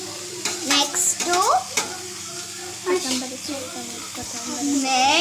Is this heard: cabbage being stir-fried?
yes